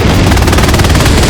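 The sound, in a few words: machine gun fire in video game Hell Let Loose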